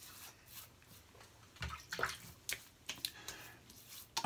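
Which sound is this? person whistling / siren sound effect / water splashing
water splashing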